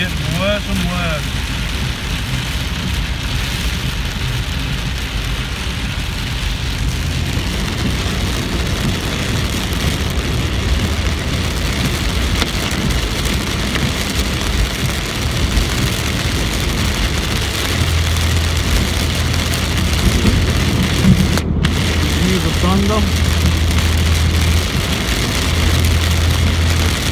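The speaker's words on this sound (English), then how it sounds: "This is the worst I've ever seen a thunderstorm" Heavy thunderstorm rain drums steadily on a car driving along a motorway into Sydney, with engine and road noise blended into a constant loud wash that stays dense for the whole stretch.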